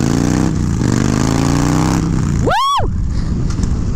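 A Harley Dyna motorcycle engine runs steadily and loud up close, with a sharp rising-and-falling rev or horn-like sweep near the end, and a brief shout from a rider.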